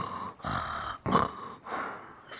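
A voice imitates snoring during a soft-spoken bedtime story, making three or four slow, breathy snore sounds with pauses between them, close and quiet.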